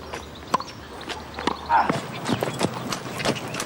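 Horses walking along, hooves clip-clopping in an irregular steady stream of hard knocks, fairly close, with faint background chatter mixed in.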